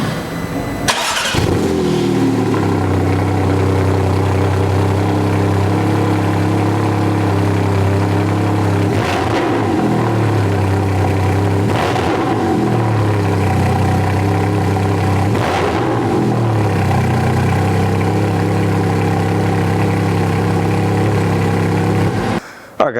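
A 2023 Porsche 718 Cayman GT4 RS cold-starts with a sharp crank and bark, then settles into a loud, droning high idle punctuated by three strong throttle blips, heard up close with no talking.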